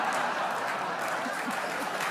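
A theatre audience at a Dutch New Year's Eve cabaret show claps in a steady, moderately loud wash of applause that carries evenly throughout.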